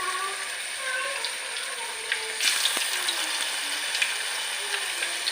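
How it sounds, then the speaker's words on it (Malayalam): Chicken pieces for a Kuttanad-style chicken curry go into hot oil: a light background sizzle surges into a louder, fuller crackle partway through, with sharp spits and pops continuing after. "ഇനി നമുക്ക് ഓരോ ചിക്കൻ പീസുമായിട്ട് നമുക്ക് അങ്ങോട്ടിടാവേ."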